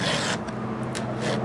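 A file rasps across a chainsaw chain to sharpen it, giving a few short, close, dry scraping strokes with brief pauses between them.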